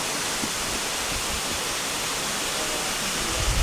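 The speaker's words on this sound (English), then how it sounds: "it's just come across the head of that waterfall." Water rushes near the head of a waterfall at the Eden Project in Cornwall. The roar is close, loud and steady, with no pauses.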